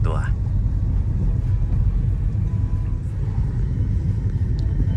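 An automatic sedan pulls away during a driving lesson, giving a steady low engine rumble and road noise from inside the cabin, with an instructor speaking over it.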